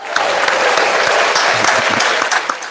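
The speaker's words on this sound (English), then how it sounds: "Let's give her a round of applause." Audience applause at a live show as a performer is welcomed to the floor, loud, close, dense clapping with scattered voices underneath.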